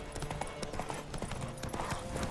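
Fast hoofbeats of a racing horse in The Witcher 3 pound in a quick, even rhythm for the whole stretch, close and prominent against the game's background sound.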